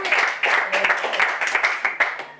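A church congregation at a French worship service applauds the Lord with steady, fast, overlapping clapping and occasional louder claps, filling the room for the whole stretch.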